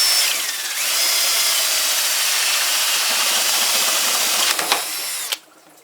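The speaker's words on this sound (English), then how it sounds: "going to make a hole with a 3/4 inch butterfly bit" A power drill fitted with a 3/4 inch butterfly bit whines steadily and loudly for about five seconds while boring a hole, then stops abruptly, leaving near silence.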